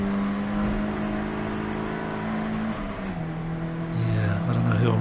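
A Team Hamster race car goes by on the track at Croft, a loud, sustained engine drone whose pitch shifts and drops as it passes close by.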